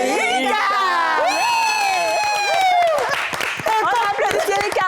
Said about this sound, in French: On applaudit Thierry Cab.